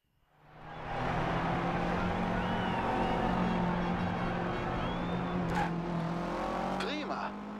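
A car engine in a Forza Horizon 2 rally drive, with the Volkswagen Bulli named in this drive, rising from quiet into a steady loud drone that holds for several seconds, with brief tire and effect sounds near the end.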